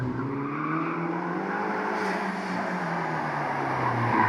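A Ferrari Roma Spider with an eight-speed dual-clutch gearbox runs with a steady, close engine drone and a rough exhaust rumble, holding an even pitch for the whole stretch with no voices.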